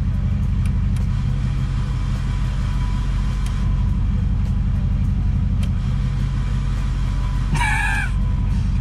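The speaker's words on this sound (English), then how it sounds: "I love the fact that I have the high idle tune for the turbo." A turbo military Chevy Blazer engine holding a high idle, a loud, steady low rumble with an even throb that runs the whole time, and a rooster crows briefly near the end.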